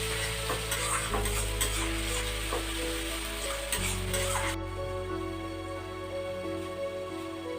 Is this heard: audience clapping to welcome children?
no